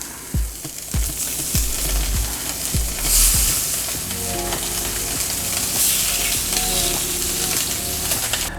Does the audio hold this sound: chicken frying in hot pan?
yes